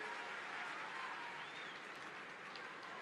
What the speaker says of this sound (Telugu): మీకు మంచిగా అనిపిస్తా ఉందా? అనిపిస్తే గట్టిగా చప్పట్లు కొట్టి ఆశీర్వదించండి.